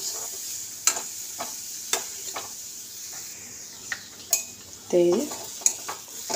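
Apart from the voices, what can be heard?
cauliflower leaf paste being dry-fried and stirred in a pan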